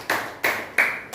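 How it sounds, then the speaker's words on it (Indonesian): A class of teacher trainees at a university in Semarang claps together in unison: four sharp, evenly spaced claps, loud and close, with no talking. "Tepuk tangan buat kelompok 1."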